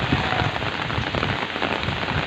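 Heavy typhoon rain from Typhoon Ulysses pours down in a dense, constant roar of drops on surfaces, loud and unbroken, with no voices.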